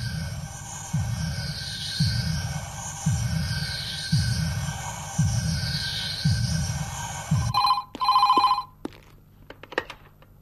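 An old-style telephone bell rings in a steady repeating pattern of bursts, fairly loud and near, then stops and gives way to clattering noises.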